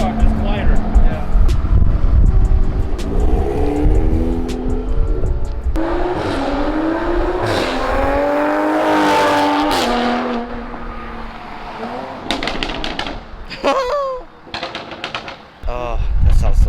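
A 2020 satin black Toyota Supra with an aftermarket resonated exhaust revs up close, its deep tone rising and falling in several pulls before settling to idle, with people talking in between.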